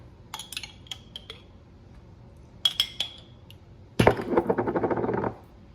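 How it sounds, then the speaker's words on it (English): A fork taps and clinks against a bowl in a few light strikes, then rapidly scrapes and mashes hard-boiled egg yolks for deviled eggs, close and clear, with no talking. "Now I'm gonna mash these up"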